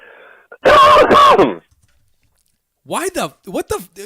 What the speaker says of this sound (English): Cough off of the mic.